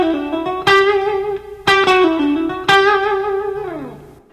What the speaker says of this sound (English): Let me slow those down for you real quick.